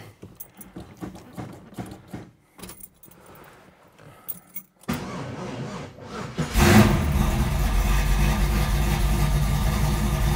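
A 1969 Plymouth Barracuda is started after some keys jangle and the car is handled, then the engine catches around the midpoint and settles into a loud, steady idle and rev that fills the rest of the clip.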